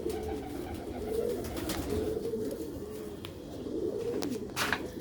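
Silver pigeons, a four-to-five-year-old bird among them, cooing in low repeated rolling calls over a constant background hum, with a few sharp knocks near the end and no talk.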